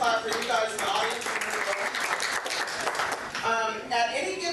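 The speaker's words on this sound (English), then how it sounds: "so that's a hand clap for you guys in the audience" Audience applause at a city morning meeting with a police chief, a crowd clapping in a dense, even wash while voices carry over it.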